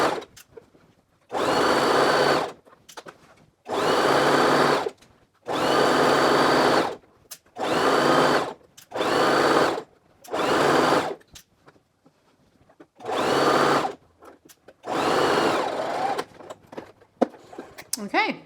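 A domestic sewing machine stitches a skirt hem in repeated bursts of fast whirring, each lasting one to two seconds and separated by short pauses, close and loud, with brief quiet gaps where someone speaks.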